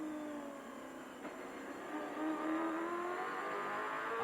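Touring race cars at full speed down the main straight at Sandown in the 1996 Tickford 500, heard from onboard Peter Brock's car: a steady, loud engine drone rising in pitch as the car accelerates, with no talk.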